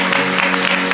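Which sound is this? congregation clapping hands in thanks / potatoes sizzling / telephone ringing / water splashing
congregation clapping hands in thanks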